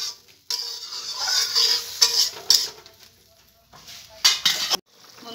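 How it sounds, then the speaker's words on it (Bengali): Water poured into a pan of frying pointed gourd curry, producing bursts of hissing sizzle and stirring clatter that rise and fall in several loud waves. "যখন ভালো করে ভেজে নিয়েছি এবার আমি জল দিয়ে দেবো।"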